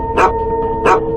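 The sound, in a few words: dog barking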